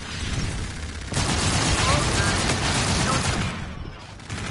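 Steady automatic gunfire from a PS4 shooter roars almost continuously and loud, swelling after the first second and easing near the end.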